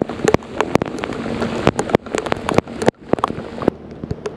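Rain falls on a fishing boat on a river, with irregular sharp drops tapping close against the hull over a soft hiss of wind, in uneven bursts and without talk.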